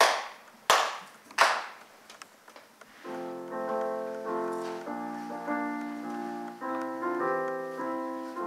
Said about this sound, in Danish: Nu klapper jeg 3 gange i hænderne.